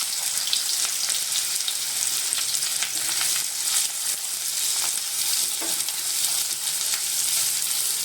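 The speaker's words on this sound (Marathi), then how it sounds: "ते आपण आता भाजून घेऊया तेलामध्ये" Two large chopped onions fry in hot oil with a loud, dense, steady sizzle and occasional faint spatula scrapes, close and unbroken throughout.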